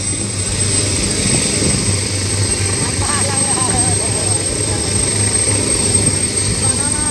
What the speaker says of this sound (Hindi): अभी उड़ेगा हेलीकॉप्टर